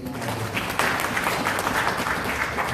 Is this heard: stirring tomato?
no